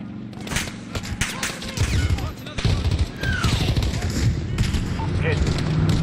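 Gunfire from the Call of Duty Modern Warfare 2019 campaign, dense rapid bursts of shots and heavy booming impacts, loud and continuous, with radio-style voices talking over the battle.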